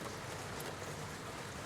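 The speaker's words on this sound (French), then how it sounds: "Cette pluie" Gentle rain falls as a soft, steady hiss, faint and even throughout with a few light drop ticks.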